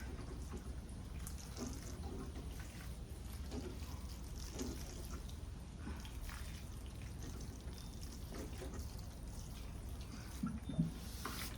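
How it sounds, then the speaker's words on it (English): Water poured from a watering can onto a seed tray of soil, a soft steady trickle and patter that runs faintly and continuously for several seconds. "Just give this a good dose of water."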